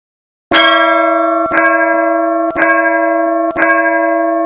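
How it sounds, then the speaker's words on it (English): Deep, resonant grandfather clock chimes ring four times at an even pace, each strike loud and ringing on into the next. "the unusual chimes on both grandfather clocks"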